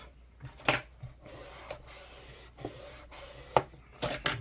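Paper on a craft shaker album being burnished, a soft scraping and rubbing with a few small taps and knocks, close and moderately quiet.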